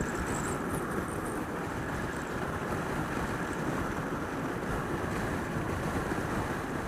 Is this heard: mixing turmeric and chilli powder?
no